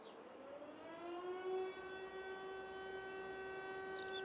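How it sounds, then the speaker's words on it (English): In Farming Simulator 22, a fire siren winds up to a sustained, steady wail and holds it, with a few faint chirps high above, alone and fairly quiet throughout. "I'm not sure whether that's a fire siren or an air raid siren."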